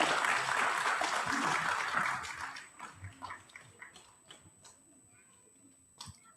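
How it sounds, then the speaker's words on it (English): An audience at a children's commencement ceremony applauds a class presentation, dense clapping at first that thins into scattered individual claps and fades out, with faint voices underneath. "Please give them another round of applause."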